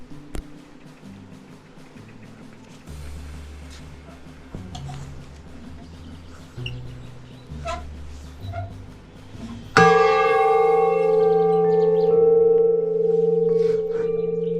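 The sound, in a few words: bell ringing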